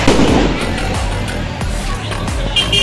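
Diwali firecrackers burst close by in a rapid crackling run with sharp pops and bangs throughout, loud and dense, with voices mixed in the noise.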